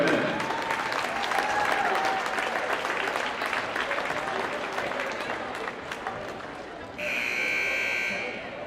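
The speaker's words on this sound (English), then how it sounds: "A big round of applause to Larry Gwynn." Crowd applause fills a high school basketball gym, a steady rush of clapping with voices underneath, before a loud, sustained buzzer blares near the end.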